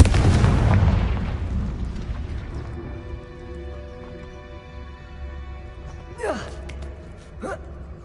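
A big blasting-spell explosion in Hogwarts Legacy on PS5 booms loudly at the start and rumbles away into a long fading tail, followed by two short whooshing spell effects.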